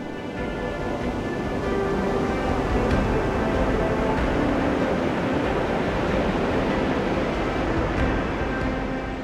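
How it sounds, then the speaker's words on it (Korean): Strong ocean waves surge onto a turtle nesting beach, a continuous loud rushing wash with a deep rumble and wind, no voices. "예전보다 더 강해진 파도는 연일 해변으로 몰아칩니다."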